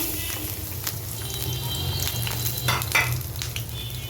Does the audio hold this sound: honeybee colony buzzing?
no